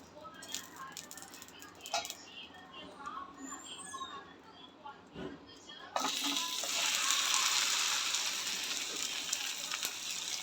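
A dosa fries in oil on a hot tawa. Light clatter and a speaking voice come first, then a sudden loud, steady sizzle breaks out midway and keeps hissing to the end.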